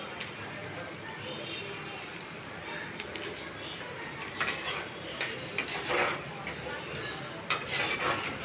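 Prawn curry in a yogurt gravy, just seasoned with garam masala, is stirred in a pan, giving soft continuous scraping and light clinks of the spoon against metal under a faint simmering hiss, with a few sharper knocks near the end.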